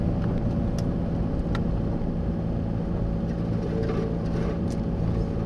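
A MINI Cooper S Coupe driving on gravel country roads, a steady engine drone mixed with constant road rumble, the noise even and close throughout with no talk.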